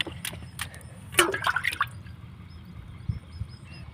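Water poured over feet outdoors, with splashing and dripping in a short burst of bright spatter mid-clip followed by quieter trickles and a low background rumble.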